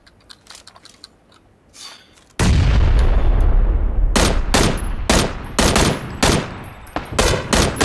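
In PLAYERUNKNOWN'S BATTLEGROUNDS, gunfire suddenly erupts into a loud, sustained barrage of close shots, then continues as a rapid series of sharp individual cracks, following a quiet lead-in with a few soft clicks.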